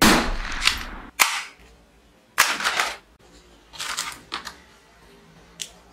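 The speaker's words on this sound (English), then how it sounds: "Powerful small toy pistol." Small toy cap pistol firing a handful of sharp, loud cracks, fired one at a time at uneven intervals with short gaps of quiet between shots.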